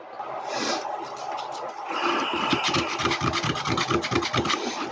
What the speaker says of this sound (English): I'm going to go in with my sandpaper just to smooth out the edges.